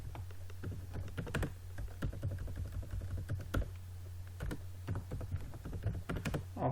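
Keys clatter on a computer keyboard while commands are entered in a Linux terminal, with irregular bursts of close clicks and short pauses over a low steady hum.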